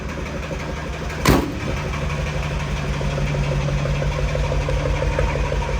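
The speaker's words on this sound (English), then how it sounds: "it does have a glass pack style muffler, which gives it kind of an aggressive growl" A 1950 GMC 100 truck engine with a glass pack muffler idles with a low, rumbling growl after a brief knock near the start, steady and close, heard from the rear.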